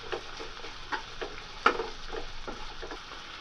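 Onions, carrots and beans being stirred in a hot pan for tomato bath, a steady soft sizzle under irregular scraping strokes, with one sharper clink of the spoon against the pan midway.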